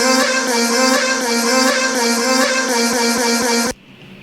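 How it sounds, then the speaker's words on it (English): Chopped vocal samples of Exede's voice run through a formant shaping effect, forming a dense, sustained harmonic tone that holds steady and loud, then cuts off abruptly near the end. "I used a formant shaping effect on it"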